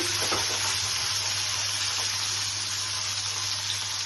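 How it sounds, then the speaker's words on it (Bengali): Cashews and raisins fry in ghee with a constant, close sizzling hiss, a few soft crackles near the start and a steady low hum underneath, without any speech. "এভাবে এগুলোকে একবারে ফ্রাই করে নিচ্ছি।"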